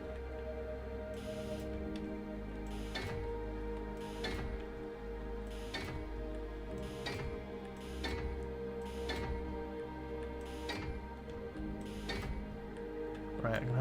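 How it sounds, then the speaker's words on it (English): Welding in Space Engineers, a steady mechanical hum broken by regular ticking clicks about once a second, with someone talking over it. "now we weld."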